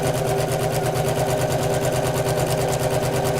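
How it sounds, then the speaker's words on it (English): Sewing machine stitching across faux leather on a messenger bag, a fast, even mechanical chatter of needle strokes running continuously and close, with no pauses over its short span. "I'm going to stitch across the faux leather part as well now"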